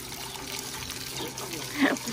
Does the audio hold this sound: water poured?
yes